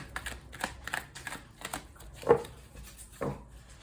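Tarot cards being shuffled by hand, heard as a string of soft papery riffles and flutters, with a few sharper slaps and snaps of the deck, fairly close and with no talking.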